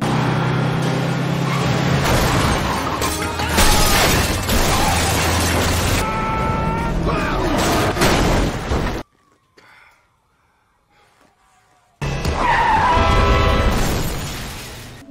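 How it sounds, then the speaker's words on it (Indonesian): Two buses collide head-on with a loud crash of shattering and crunching metal, followed by a sudden near-silence before heavy rumbling noise returns. "bis mereka saling berhadap-hadapan dan adu banteng pun tidak terhindarkan"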